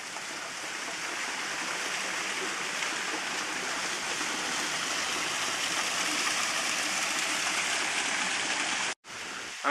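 A mountain waterfall near Cuenca, Ecuador roars in a steady, dense rush of falling water, close and constant, with no voices, cutting off briefly near the end.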